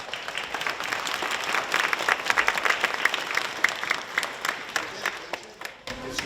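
Students clap together at a school Veterans Day assembly, a dense, steady round of applause with scattered sharper claps that thins out and stops near the end.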